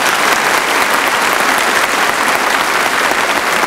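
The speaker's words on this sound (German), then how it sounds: "Klatschen Sie jetzt." A studio audience at a 1981 German television game show claps loudly and steadily throughout, a dense, continuous wash of applause with no pauses.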